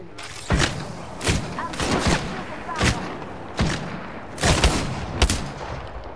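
Repeated gunshots from Apex Legends weapons fire in sharp bursts, roughly eight loud cracks spread unevenly across a few seconds, some paired in quick doubles, over a busy game background.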